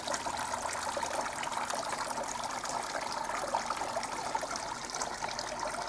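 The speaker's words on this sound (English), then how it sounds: "So see how it looks like, this fountain." Water trickling steadily in a homemade garden fountain, a constant close splashing babble with no pauses and no voices over it.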